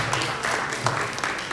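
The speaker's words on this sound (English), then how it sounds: "Please give a big round of applause." Audience applause at a temple anniversary program, a brief burst of many hands clapping in a dense, even patter.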